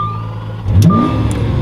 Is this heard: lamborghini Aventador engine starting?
yes